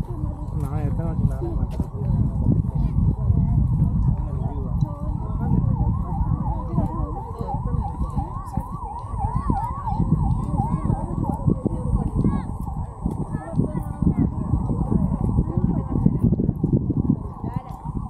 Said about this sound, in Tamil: அதான் ஆம்புலன்ஸ்